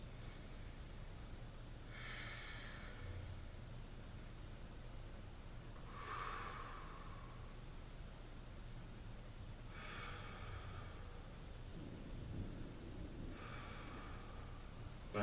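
Slow, deep yoga breaths during a post-cardio stretch, four soft airy exhales spaced a few seconds apart over a quiet steady background hiss.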